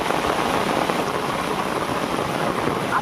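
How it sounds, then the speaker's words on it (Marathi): Steady heavy rain falling outdoors near a stream during a crab-catching outing, a constant dense hiss of drops with no talk. "पाऊस आला जरा"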